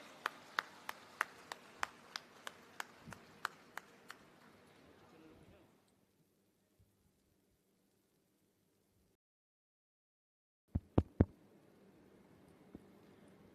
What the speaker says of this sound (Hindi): माननीय मुख्यमंत्री महोदय का जोरदार तालियों से स्वागत करें।